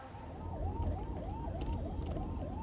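An ambulance siren wails in repeating rising-and-falling sweeps amid Indian road traffic, steady and fairly loud throughout, with the low rumble of engines beneath it.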